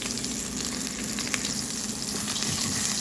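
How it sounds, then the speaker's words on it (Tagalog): Onion, ginger and garlic sizzle and crackle steadily in hot oil, a dense close-up frying hiss with occasional pops and no talking. "Then mayroon tayong sibuyas, luya at saka bawang. So, prito lang natin sa saglit guys."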